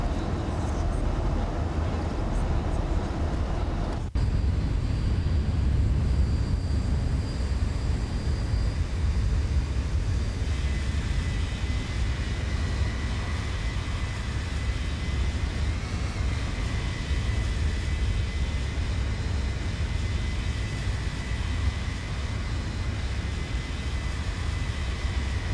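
A Boeing 737 in the X-Plane 11 flight simulator shaking in turbulence, a loud, continuous engine and airflow roar that holds steady for the whole stretch, with a faint tonal whine above it.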